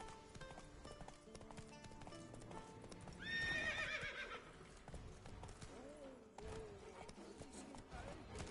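Roach, the horse in The Witcher 3, gallops with steady hoof clip-clop and gives a loud neigh partway through, over game music and ambient sound.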